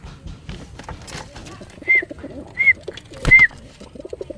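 Pigeons coo close by: three short, throaty warbling calls stand out over a low background of shuffling and faint murmuring voices.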